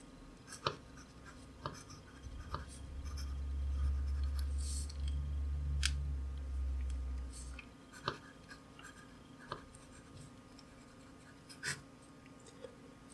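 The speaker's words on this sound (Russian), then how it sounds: "Протестируем нашу вечную ручку." A homemade eternal pen scratches across a surface in soft, scattered strokes and taps. A low hum runs underneath for several seconds in the middle, and no one speaks.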